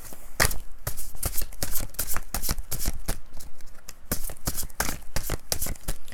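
Tarot cards being shuffled by hand in a close, repeated series of crisp riffling slaps and flicks at an irregular rhythm, with no talking.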